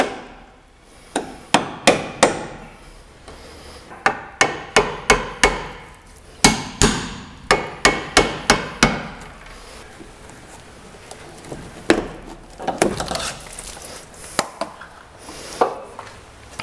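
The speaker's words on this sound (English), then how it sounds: "chiseling panels off, it's good to have a couple chisels" Sharp metallic hammer strikes on chisels drive under floor panels of a C1 XL, coming in rapid uneven bursts of loud close blows with short pauses between runs.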